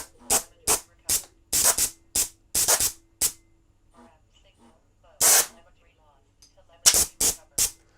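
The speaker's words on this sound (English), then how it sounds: "if I push this up, the two jets at the front should fire" Short sharp bursts of gas from thruster jets on a drone, a string of loud hissing puffs in quick clusters separated by quiet gaps.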